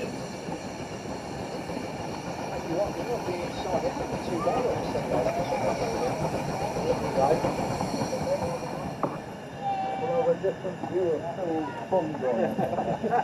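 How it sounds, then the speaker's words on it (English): A train pulls in on the Ravenglass and Eskdale Railway on a wet gala weekend, a steady rumbling roll with hiss and faint wheel clatter close by, growing slightly busier toward the end. "And here comes the train that I'll be taking."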